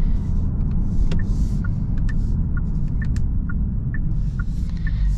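A 2023 Genesis G70 with the 2.0-liter turbo engine cruising, giving a steady low rumble and drone from the cabin with faint road noise and soft repeated chimes, and no talking.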